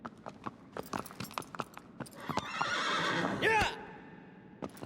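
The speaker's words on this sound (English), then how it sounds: "Come here, horse." A horse in the video game Shadow of the Colossus gives a loud whinny near the end, following a run of galloping hoofbeats, with a voice calling out briefly over the game sound.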